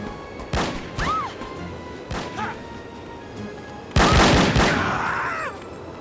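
Gunfire in the PC shooter The Operative: No One Lives Forever (2000): a few sharp shots with short gaps, then a louder, longer burst of blasts near the end, standing out against quiet game ambience.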